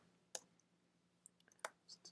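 Keys on a computer keyboard clack in a few quiet, scattered clicks as C code is typed. The taps are close but soft, with irregular gaps between them and no voices.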